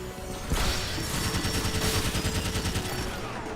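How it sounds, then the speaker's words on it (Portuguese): Sustained, rapid minigun fire in a video game, a loud dense rattle that starts abruptly after a brief lead-in and rolls on steadily to the end, with no voices. "A minigun dá bastante dano, inclusive, mas ela é muito precisa a longa distância."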